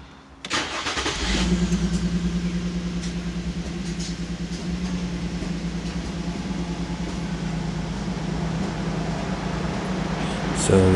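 A 2006 Infiniti FX35 engine cranks briefly and catches, then settles into a steady, close idle hum that holds to the end.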